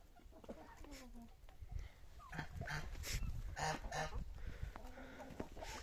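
Amrox, partridge Leghorn and bantam chickens cluck and squawk in a farmyard, several birds calling at once with a low background rumble.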